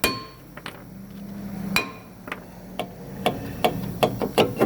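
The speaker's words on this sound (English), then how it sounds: "so just tap the rotor" A hammer taps a rusted front brake rotor on a 2016 Hyundai Elantra, with about eight sharp metallic knocks close by, irregularly spaced and coming faster toward the end.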